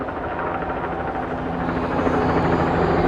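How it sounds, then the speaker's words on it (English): Police helicopter rotors thrum overhead during a May Day march in Seattle, a steady, loud chopping drone that swells slightly as more than one craft circles, with no voices. "But you can hear the helicopters. There's more than one helicopter that's shown up."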